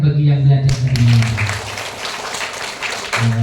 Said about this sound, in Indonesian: Kasih tepuk tangan bagi yang belajar tadi malam.